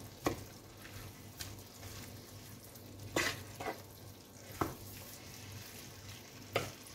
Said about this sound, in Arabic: واقلبها بالبهارات